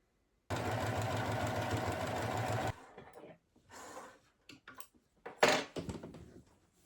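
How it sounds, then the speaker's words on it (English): A sewing machine runs a seam up the side of a knitted liner, loud and close in one steady continuous whir for about two seconds, then stops and leaves scattered light handling clicks and rustles. "then we're just gonna sew up the other side"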